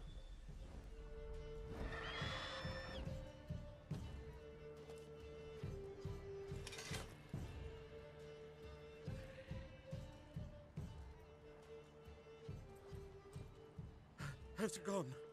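Hoofbeats of a horse in The Witcher 3 clop steadily and rhythmically over a long stretch, with a couple of whinnies rising above game sounds and talk.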